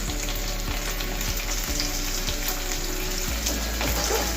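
Ginger garlic paste and chopped green chillies fry in a hot pan for aloo matar pulao, giving a steady, close sizzle with occasional clinks of a stirring spoon and faint watery crackle throughout, no voices.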